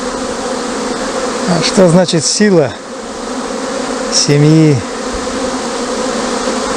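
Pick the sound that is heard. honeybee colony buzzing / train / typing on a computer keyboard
honeybee colony buzzing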